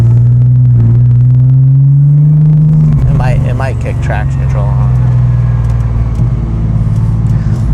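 A 1400hp car with a stage 4 stroker engine, Savage turbo kit and KLM stage 3 transmission drives along, a loud steady engine drone and road rumble from inside the cabin, with a person talking over it.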